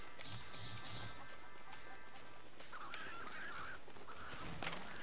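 A cartoonish chicken clucks and honks faintly in the Black Ops Dead Ops Arcade video game, set among quiet game sound effects and background noise.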